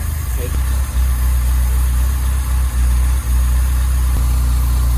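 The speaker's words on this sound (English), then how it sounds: "It's idling." A 1987 Toyota Corolla AE86 engine idles steadily after an alternator failure, a loud, close, even low rumble with slight rhythmic pulsing and no other sounds.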